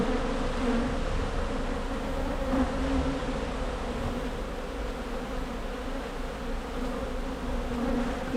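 A dense swarm of wild honey bees drones steadily around a hive built inside a chest of drawers in Trinidad and Tobago, a loud, close, continuous hum.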